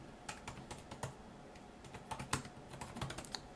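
Quick, irregular clicks of a computer keyboard as someone types a search for a DisplayLink driver, fairly quiet and close with no voices.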